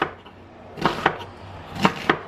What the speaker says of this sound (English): So I'm just randomly chopping this onion.